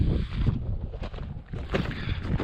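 Wind blowing steadily across hilly desert terrain with washes, gusting and shifting direction, a close, rumbling buffet with continuous low-frequency roar that swells and eases throughout.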